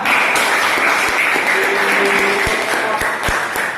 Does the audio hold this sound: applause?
yes